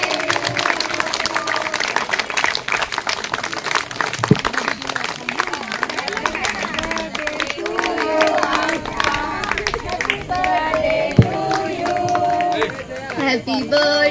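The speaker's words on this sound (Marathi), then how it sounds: "टाळ्यांचा कडकडाट थांबला नाही पाहिजे।" A crowd at an 86th birthday celebration claps and cheers in a dense, sustained roar of applause, with chatter and voices mixed in and melodic singing rising toward the end.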